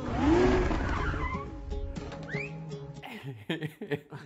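A car arrives fast in a movie scene, its tyres squealing in a loud skid at the start, then dramatic music and short bursts of sound follow.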